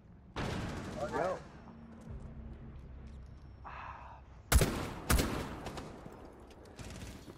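Gunfire in the Rainbow Six Siege video game: two sharp, loud shots about half a second apart in the middle, following an earlier burst of voice and game noise, with quieter background activity throughout.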